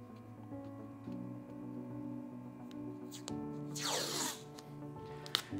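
Painter's tape torn from the roll in one short, rasping rip that rises over a quiet hum, ending with a faint tick.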